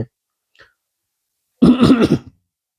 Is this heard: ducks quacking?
no